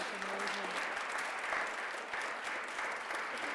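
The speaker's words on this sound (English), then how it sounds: "We can have a big round of applause for our amazing speakers tonight" Audience applause for speakers at an evening event about flamenco and the arts in Greenwich Village, a steady, moderately distant wash of many hands clapping continuously.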